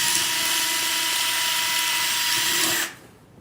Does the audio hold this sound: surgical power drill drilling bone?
yes